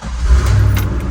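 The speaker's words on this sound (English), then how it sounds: "Gonna fire it up, take it for a little test drive and let the fluids mix" Keys jangle briefly as a C5 Chevrolet Corvette's engine cranks and catches, starting up with a low rumble close by.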